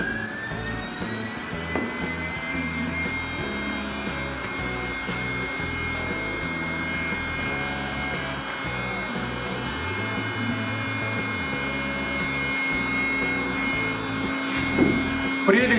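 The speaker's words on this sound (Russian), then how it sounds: "Прелесть этого электрического насоса еще в том, что можно, пока он накачивает, заниматься какими-то другими вещами" A compact electric air pump inflating a packraft drones with a constant whine and buzzing hum, running continuously at close range with no pauses.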